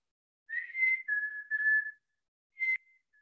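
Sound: mountain chickadee call, 'cheeseburger' mating song

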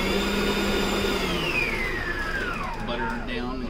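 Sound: electric mixer creaming butter and sugar for cookie dough

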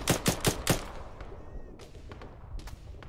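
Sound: gunfire in video game ArmA 3

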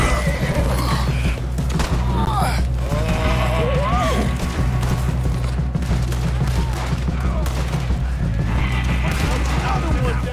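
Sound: horse neighing in video game Red Dead Redemption 2

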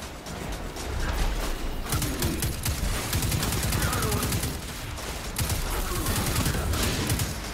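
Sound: gunfire in the video game Destiny 2

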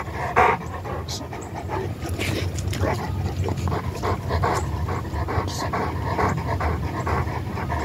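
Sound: dog panting

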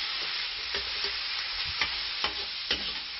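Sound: squid rings frying with ñora peppers

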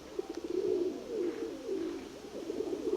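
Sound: pigeon cooing

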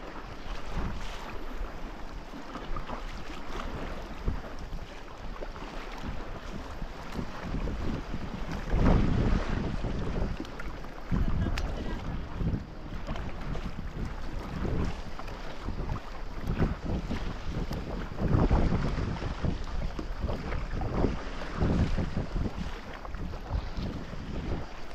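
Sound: boat riding through waves

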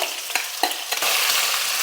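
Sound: onion paste sizzling in frying pan

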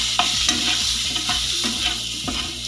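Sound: stirring egg masala gravy with mutton masala and coriander

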